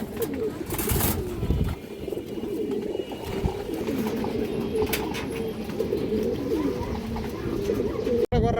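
Domestic pigeons at a pigeon market coo continuously and fairly close, a low rolling burble with wing flutters and small knocks, while a person speaks over the birds at times.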